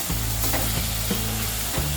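Spiced rice mixture with turmeric and garam masala stirred in a pot for Maharashtrian valache bhaat, a steady close scraping and sizzling texture with a low hum running throughout, no voices.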